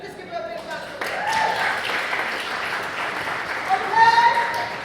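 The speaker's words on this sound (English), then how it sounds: "Can you just give her a big round of applause?" Audience applause at a youth participation event, a steady wash of clapping from a crowd with a few voices and whoops rising over it toward the end.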